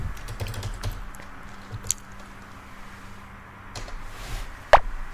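Someone types a search for a folder on a computer keyboard, giving soft scattered key clicks at close range with a few louder taps and a sharp final keystroke.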